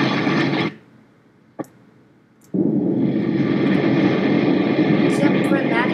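A roaring aircraft engine in Kerbal Space Program cuts out abruptly, leaving near silence broken by a single short click, then surges back to a loud, sustained roar.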